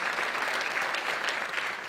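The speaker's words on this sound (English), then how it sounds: "Give Jason a big round of applause and acknowledgement" A crowd in a legislative chamber applauds an honored guest, a steady, dense wash of clapping that stays loud and even throughout without breaks.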